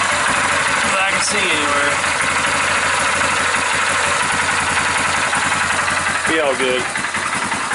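A 2001 Yamaha Kodiak four-wheeler ATV engine idles steadily and loudly close by, still cold, while someone talks over it.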